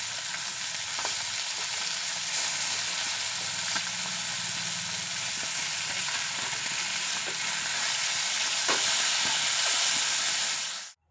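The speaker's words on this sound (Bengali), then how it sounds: "এরপর বাকি মাছগুলো একইভাবে ভেজে নেব" Fish frying in mustard oil in a wok, a loud continuous hiss and sizzle with occasional spatula knocks, steady and close for several seconds before cutting off abruptly.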